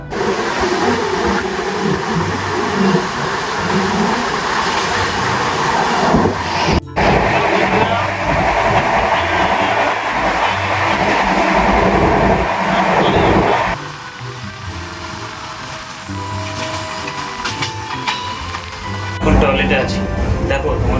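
Steady rumbling and rattling inside a running express train from Howrah to Katpadi, a continuous broadband roar that drops noticeably in level partway through and rises again near the end, with voices talking over it.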